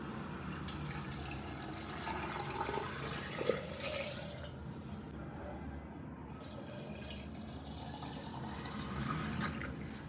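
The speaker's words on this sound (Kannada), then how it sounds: "ಸ್ವಲ್ಪ ವಾರ್ಮ್ ಆಗಿರುವಂಥ ನೀರನ್ನ ಚೆನ್ನಾಗಿ ಪೋರ್ ಮಾಡಬೇಕು ಇದಕ್ಕೆ" Warm water poured over pineapple pieces and jaggery for tepache, a steady close splashing trickle that runs through the whole stretch with no talking.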